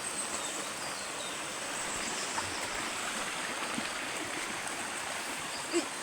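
A river stream flowing, a steady, soft rushing wash of water that holds even and fairly faint throughout, with one small knock near the end and no talk.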